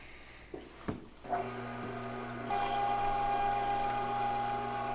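A meat grinder starts up and hums steadily while grinding pork trimmings seasoned with maple seasoning for sausage. A few clunks come first, then the motor drone with a tonal whine grows a little stronger midway, with no talk.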